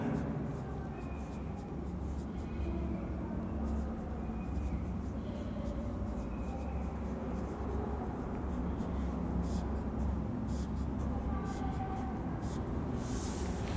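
Chalk or marker writing on a board during a math lecture, giving faint scratchy strokes under a steady rumbling background hum, with someone speaking at times.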